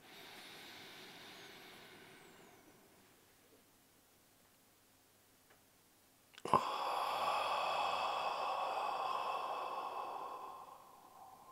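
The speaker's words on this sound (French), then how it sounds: "Encore 2 fois, j'inspire." Deep breathing during a guided relaxation exercise: a soft, slow exhale fades out, a pause of near silence follows, then a sharp start and a long, loud, steady inhalation close to the microphone.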